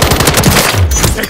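Loud rapid automatic gunfire from Call of Duty: Modern Warfare, a dense close burst of shots over about a second, with no speech.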